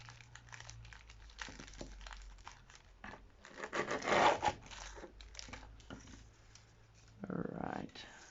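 Scissors cutting paper for a junk journal at close range, crisp snips and rustling crinkles in irregular bursts, a louder cluster in the middle and another near the end, with a voice speaking at times.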